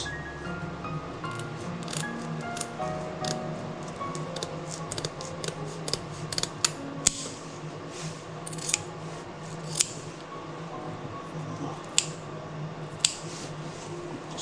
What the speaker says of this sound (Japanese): ハサミで切っていきます。